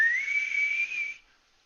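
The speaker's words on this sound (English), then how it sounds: "I guess he's just dealing with that damn whistle" A thin, steady high-pitched whistle holds for about a second, then cuts off into near silence; it comes from a Drag X Plus vaping device.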